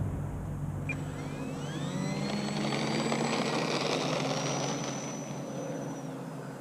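A HobbyZone Mini Apprentice S RC airplane takes off in calm air, its electric motor giving a steady high whine that rises and shifts in pitch as it climbs away, with a broad, constant rushing background.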